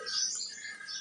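Sparrows chirp in a drumstick tree in a village, with a brief, faint, high twittering over quiet background.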